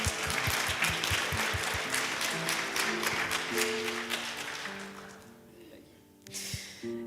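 Congregation clapping at a Sunday contemporary service at Unity Church of the Hills, over sustained music, the applause fading out into quiet before a brief swell of sound at the end.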